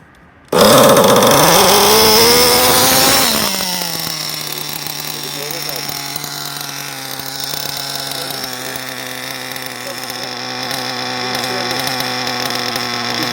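Nitrous-equipped car engine at a night car meet, bursting into a loud rev and held at full throttle, a sustained harsh roar with a rising then steady tone and voices around it.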